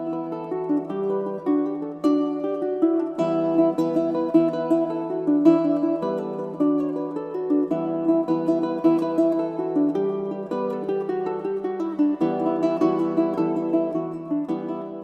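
A baritone ukulele plays a lively, bouncing Irish jig melody (Morrison's Jig) steadily throughout, close and clear, with no voices.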